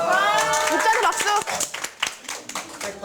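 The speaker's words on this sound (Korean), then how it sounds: "6조한테 박수." A classroom of students claps for the winning team, a burst of quick, scattered hand claps close by, with a teacher's voice and children's chatter over it.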